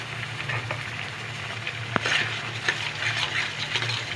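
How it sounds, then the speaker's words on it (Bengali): Tomato chutney being stirred in a pan, a soft bubbling sizzle with a low steady hum and a few scraping stirs, one sharp tap midway, no voices. "আর নেড়েই যেতে হবে।"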